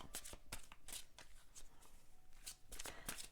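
Tarot cards being shuffled close up: soft, rhythmic riffling and slapping bursts repeating quietly, with no other sound.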